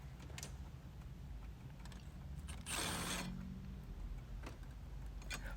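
Power driver gun spinning out the screws on a BMW G30 airbox with a B46 engine, one loud mechanical whirring burst of about half a second standing out over steady low workshop hum.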